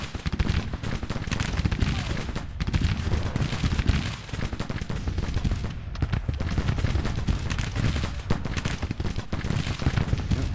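Dense, continuous musket volleys from a Civil War battle in Grand Tactician: The Civil War, crackling shots overlapping into a loud, unbroken roar of gunfire with no talking.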